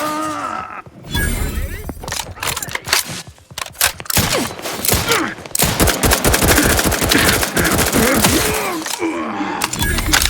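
Sustained rapid gunfire and bursts of automatic weapons during a combat encounter in the sci-fi video game The Outer Worlds 2, loud and dense across nearly the whole stretch, with voices mixed in among the shots.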